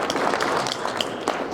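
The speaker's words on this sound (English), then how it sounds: "I think that deserves a round of applause." An audience at a young African leadership summit claps in a dense, steady round of applause that lasts throughout.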